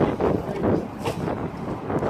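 Loud wind buffeting a microphone outdoors in San Francisco, rumbling and gusting continuously with no voices.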